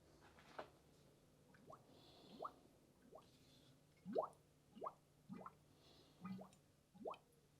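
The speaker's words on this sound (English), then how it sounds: "I'm going to fill it up with coolant now and run it" Coolant being poured into the cooling system of a Princess 2200 HLS boat during a coolant flush. Faint, irregular drips and gurgling plops repeat about every half second to second.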